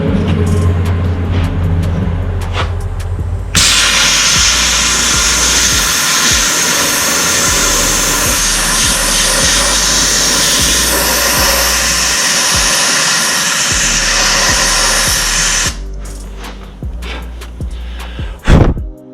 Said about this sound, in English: So I'm going to continue sandblasting it all